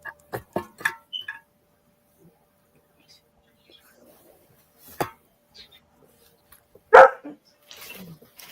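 Several indoor dogs bark in sharp bursts, a quick run of loud barks at the start, a single bark midway and another loud bark later, with quiet gaps and some soft talking between.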